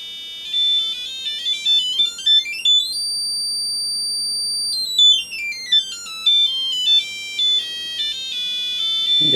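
A Keysight U1273A multimeter's continuity tone sounds as the resistance is lowered: a clear electronic beep that rises in pitch, holds high, then slides back down, steady and prominent with no voices.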